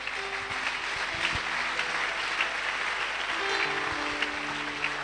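A church congregation at a French-language service claps in steady sustained applause, a dense wash of many hands, with faint background tones.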